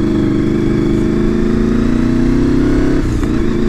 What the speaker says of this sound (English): on a VFR750, and what a beautiful bike it is.